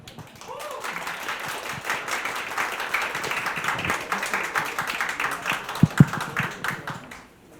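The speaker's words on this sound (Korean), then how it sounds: "큰 박수로 모시겠습니다." A seminar audience in Sejong, Korea, claps continuously for several seconds to welcome a speaker, moderately loud and steady in a room, fading out at the end.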